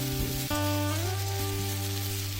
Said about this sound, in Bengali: শুকনো লঙ্কা আর গোটা জিরে ফোড়ন দিয়ে দিলাম। এবার দিয়ে দিচ্ছি রসুন বাটা